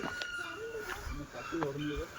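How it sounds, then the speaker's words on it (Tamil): Birds in a high mountain forest give rooster-like crowing calls, short and rising, repeated two or three times at moderate distance while someone talks over them. "மனித நடமாட்டத்தை பார்த்தோன்னே பறவைங்கள்லாம் கத்துது"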